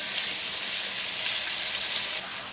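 Ginger and garlic paste fries in a pan for beef bhuna, a close, even hiss of sizzling oil holding steady before easing slightly near the end.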